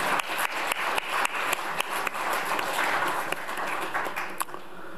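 An audience at a volunteer group's launch ceremony applauds Pastor Na, a dense, continuous wash of clapping with a few louder nearby claps, holding steady for several seconds.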